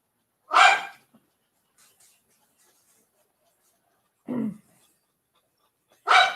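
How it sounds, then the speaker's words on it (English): A dog barks three times, sharp and close, spaced several seconds apart with quiet in between. "You hear my dog barking at the kid?"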